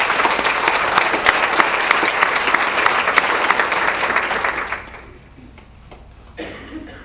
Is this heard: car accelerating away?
no